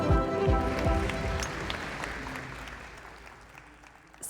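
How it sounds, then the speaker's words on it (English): An audience claps for an Oxford mathematician being introduced at a talk on quantum physics and consciousness, loud dense applause at the start that gradually fades over a few seconds. "Round of applause, please."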